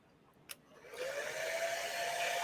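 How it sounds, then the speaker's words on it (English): A hair dryer switches on and runs steadily at close range to soften glue on a homemade costume, a loud constant whoosh after a brief click. "I'm going to take the hair dryer to this real quick."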